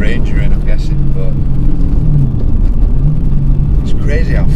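Supercharged BMW E92 M3 V8 pulling hard under acceleration, a loud, close mid-pitched engine roar with rising revs and shifts, heard from inside the car.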